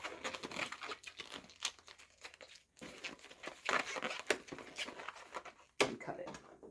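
A twisted latex balloon is knotted off by hand, giving a run of close, squeaky rubber crinkles and rubs with a few sharper snaps, heard alone without talk.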